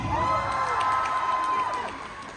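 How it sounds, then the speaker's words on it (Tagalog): An excited audience at a Filipino dance-challenge event cheers, shrieks and claps for a contestant; loud, high-pitched screams and whoops, many sounding young, swell over scattered clapping and then begin to fade. "Pwede mo marinig ang palakpakan na sigawan para kay Sisi"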